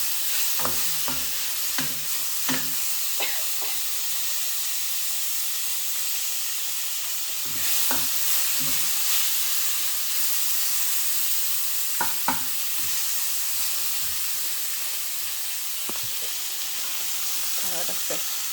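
A vegetable and prawn stir-fry hisses steadily in a hot pan, with bursts of stirring clatter and scraping scattered through a long sizzle, close and without voices.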